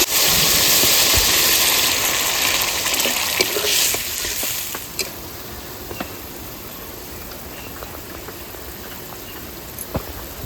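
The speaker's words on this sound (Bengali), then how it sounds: "ঝোল ফুটে গেছে" Koi fish curry gravy simmering in a pan gives a steady broadband hiss and bubbling, loudest at first and then settling into a softer sizzle with a few scattered pops and clinks.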